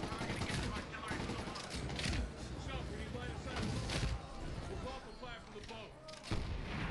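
Gunfire and grenade explosions in the Medal of Honor Warfighter campaign crackle and boom in rapid, irregular bursts, loud and close, with heavier blasts punctuating the shooting while someone talks over the action.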